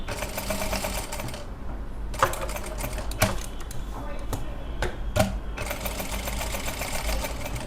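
A sewing machine runs a straight stitch in resham silk embroidery, a steady rapid mechanical chatter close up, broken by a few short pauses and clicks.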